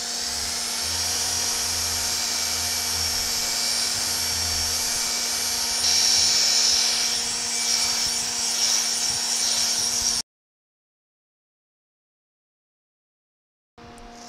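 A 500 grit pad polishes the edge of a porcelain paver tile into a bullnose with a steady, high-pitched whine and rubbing grind. The sound runs continuously for about ten seconds, then cuts to silence, and resumes briefly at the end.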